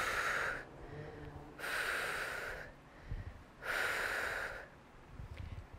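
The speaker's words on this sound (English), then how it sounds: "Exhale, inhale." Slow, deliberate breaths during a seated senior lower-body exercise, three long airy exhales alternating with quieter inhales at an even rhythm, close and moderately loud.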